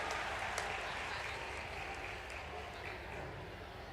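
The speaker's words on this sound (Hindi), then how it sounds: "जोरदार तालियां हम सबकी ओर से होना चाहिए" Applause from the audience at a ceremony in Ujjain welcoming India's Vice President: a steady, dense wash of clapping held at a fairly even level throughout, somewhat muffled and distant.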